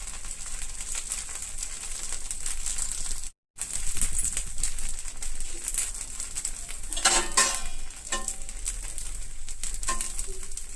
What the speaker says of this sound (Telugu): దోశ వేయడానికి హైలోనే పెట్టాను.